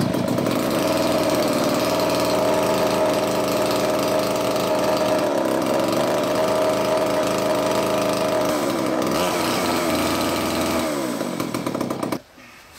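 Poulan chainsaw, an older 5020 or newer 3400 model, idles steadily and loudly after starting, a continuous buzzing engine drone that holds for about twelve seconds before cutting off abruptly.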